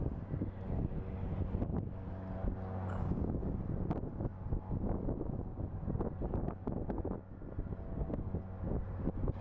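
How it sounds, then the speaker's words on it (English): Wind buffets a microphone outdoors at Phoenix Sky Harbor International Airport, producing continuous low rumbling gusts and flutter with no speech. "Bit of a windy day here today"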